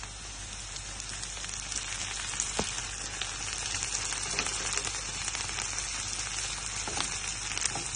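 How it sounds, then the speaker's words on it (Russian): Onion and garlic sizzle and spit in a pan, a dense continuous crackle with occasional sharper pops, close and fairly loud. "Жарим вместе."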